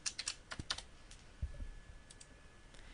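Fast, light keystrokes on a computer keyboard while entering a cell address in Excel, a quick run of close clicks followed by scattered taps, quiet.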